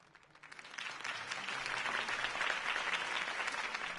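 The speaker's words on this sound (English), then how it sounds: "If only Mr. Wayne, my campaign's largest backer, could have heard that applause" In a PS4 game, a crowd breaks into applause after a political campaign speech, swelling within a second and holding as steady, dense clapping.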